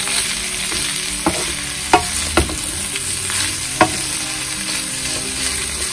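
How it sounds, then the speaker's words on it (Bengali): Spicy chilli beef with green chillies frying in a pan, a loud continuous sizzle broken by a handful of clear spatula clacks as it is stirred, with no talking. "এখন এটাকে একটু নাড়বো, খুব বেশি না। এখন আমি এটাকে একটু মিশিয়ে নিব জাস্ট খালি।"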